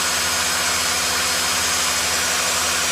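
Engine held at full throttle around 1,700 RPM, a loud, steady, unbroken roar with a constant hum and no change in pitch, close by and free of talk.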